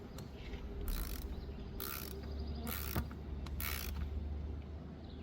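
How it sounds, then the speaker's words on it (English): A wrench tightening the negative battery terminal bolt on a Toyota Camry after an alternator replacement, several short close ratcheting bursts with pauses between, faint and without talk. "tighten this bolt back up"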